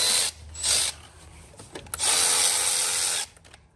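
A Milwaukee extended-neck quarter-drive ratchet with 7mm swivel socket spins in short bursts while loosening a hose clamp near an alternator, close buzzing runs with brief clicks between.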